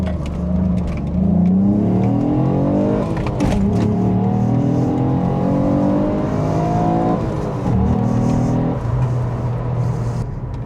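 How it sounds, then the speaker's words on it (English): A Ford Mondeo ST200 engine with 160,000 miles revs up repeatedly, climbing in pitch with a steady throaty growl, loud and close, then settling back toward idle. "Little blip. All the revs."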